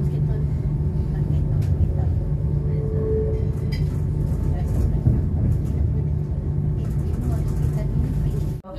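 Steady rumble and hum of a Bangkok BTS Skytrain in motion from inside a carriage, with a faint voice underneath the continuous drone.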